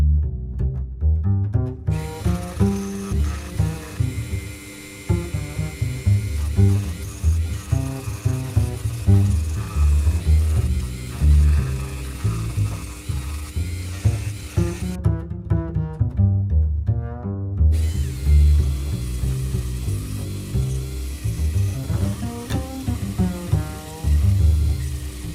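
A power tool sands a wooden 3D arrow, a loud continuous buzzing grind with shifting pitch and pressure, stopping briefly twice over about twenty-five seconds.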